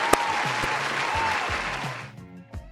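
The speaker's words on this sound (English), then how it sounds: "Let's give a round of applause." A small group claps together in applause that holds steady for about two seconds and then tapers off to scattered claps as the round ends.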